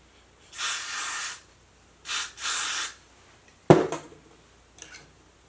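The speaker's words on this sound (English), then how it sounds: "Then I'm going to use the Got to Glue spray." Short aerosol bursts of Got to Glue spray hiss onto a curly pixie wig, one about a second long and then a pair close together, followed by a sharp clatter and a faint softer spritz near the end.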